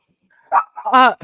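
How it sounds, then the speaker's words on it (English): A dog barks once or twice nearby, short, sharp and loud against an otherwise quiet room. "Sorry, that's my dog."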